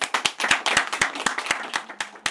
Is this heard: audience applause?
yes